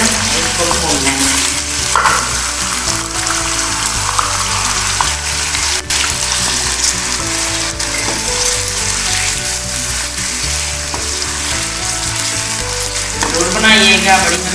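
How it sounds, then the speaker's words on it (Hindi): Chicken fries in a pot for achari chicken handi with a loud, steady sizzle, punctuated by occasional scraping stirs of a spoon against the pot, close and continuous throughout. "लाइट गरम करके इसमें गोश्त डाल देना, इसको भूनना है।"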